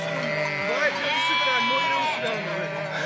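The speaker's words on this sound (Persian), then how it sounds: "گوسفند" Sheep bleat continuously, several overlapping wavering calls close by and loud, forming a dense flock chorus.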